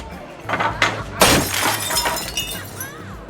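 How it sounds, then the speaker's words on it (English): A framed photo smashes against a wall, a loud crash of breaking glass followed by scattering shards that tinkle and fade over a few seconds, with no talking. "smashing a framed photo of him and Jim on the wall"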